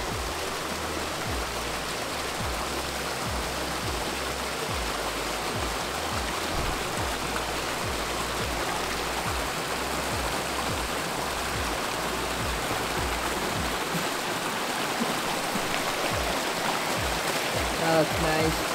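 Cold stream water in Montana flows steadily with a broad, even rushing wash, while a person wades and splashes nearby and a voice talks faintly over it.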